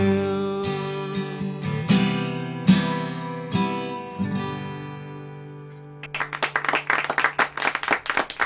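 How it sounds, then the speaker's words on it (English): A canned applause sound effect on a radio station broadcast bursts in after a lingering musical tone and stays fairly close and steady until the end. "Sorry for the canned applause"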